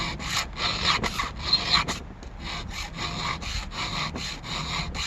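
Hand file rasping across chainsaw teeth, reprofiling them to a bigger hook angle and deeper gullet for rip cutting softwood; repeated close, steady scraping strokes with one brief pause midway.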